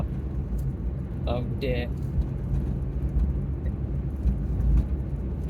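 A car drives along bendy roads, and a low, steady engine and road rumble fills the cabin while a voice briefly speaks over it.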